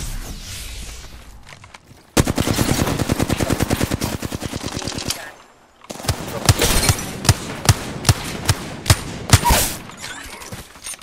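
Video game gunfire: a long rapid automatic burst, a short pause, then a series of louder spaced single shots and short bursts, close and sharp.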